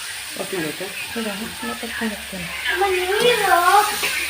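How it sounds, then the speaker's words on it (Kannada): Onion, green chilli and tomato frying in oil in a home kitchen, a steady close sizzle with stirring while someone talks over it throughout. "ನೀರುಳ್ಳಿ ಆಮೇಲೆ ಹಸಿಮೆಣಸು ಆಮೇಲೆ ಟೊಮೆಟೊ ಇದು ಮೂರು ಹಾಕಿ ಫ್ರೈ ಮಾಡ್ಕೊಳ್ತಾ ಇದ್ದೇನೆ ಎಣ್ಣೆಯಲ್ಲಿ"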